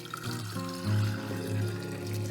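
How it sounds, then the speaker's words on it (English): Homemade almond milk pours into a glass mason jar in a continuous liquid stream, moderately loud and close, with a low gurgling undertone and no voices. "Now I take a mason jar or some kind of glass jar, and I pour the contents directly in."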